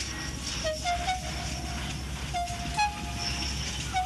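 Percy the small steam engine, sticky with spilled treacle, sets off along the line, with rail rumble and short whistle-like toots over a steady low drone, fairly close and unaccompanied by talk.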